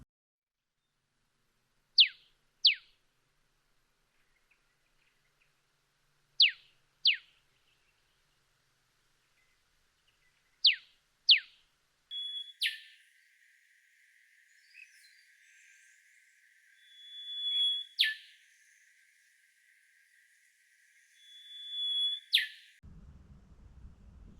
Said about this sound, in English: The next two we're going to introduce side by side is the eastern yellow robin and Rufous Whistler.